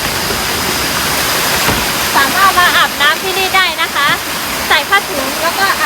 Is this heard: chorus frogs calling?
no